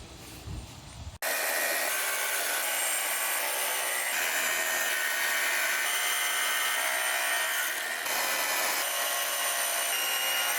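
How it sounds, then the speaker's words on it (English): Angle grinder with a cutoff wheel grinding down a small weld bead on a steel shaft for a homemade 2x72 belt sander, a loud, continuous, close-up harsh whine that starts abruptly after a second and holds steady, with no talking. "I'm going to grind this down so that it's a little bit bigger than the shaft"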